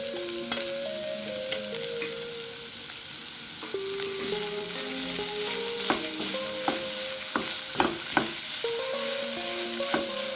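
Fish masala filling for buns sautéing in a pan, with a constant sizzle under frequent spatula scrapes and clinks against the metal, close and busy, with no talking.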